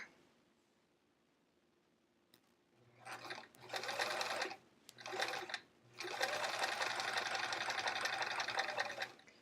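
A sewing machine stitching pencil pockets for a travel art folio runs in three close, steady bursts of rapid stitching with short pauses between them, after a quiet start.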